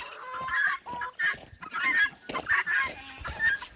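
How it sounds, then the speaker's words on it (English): Guinea fowl calling on a farm alongside chickens, a series of harsh, repeated squawking cries in bursts, close and fairly clear. "And the Ginnys, they gotta talk."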